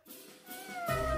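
A single drawn-out cat meow, soft at first and rising, fairly close in a quiet room.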